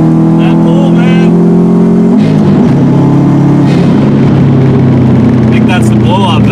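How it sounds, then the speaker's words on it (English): A 2005 Subaru WRX STi at stage 2 tune pulls hard with a loud, droning engine note that climbs, then drops as the blow-off valve hisses and chirps between gears. A driver talks over the engine from inside the cabin. "I think that's the blow-off valve we're getting noise from."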